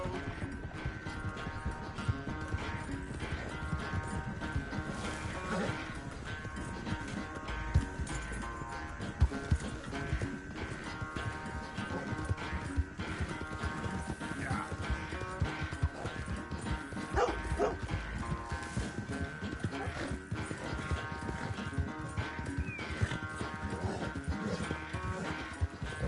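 Horse hooves clip-clop steadily in Red Dead Redemption 2 during a horse race, a continuous rhythmic trotting under a busy game soundscape with music and occasional dog barks.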